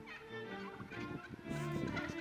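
Turkeys gobbling in a crowd, several birds calling over one another in a steady, fairly loud chorus with harmonic warbling calls throughout.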